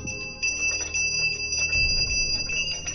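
A reception desk bell in a Who Wants to Be a Millionaire video game rings with a bright, sustained metallic tone, close and fairly loud, over a low background rumble with some faint movement noise.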